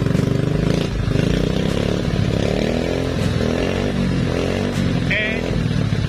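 Yamaha RXF 50 two-stroke motorcycle engine with a starting problem, revved repeatedly in a rough, buzzing drone close by, with a person briefly speaking over it.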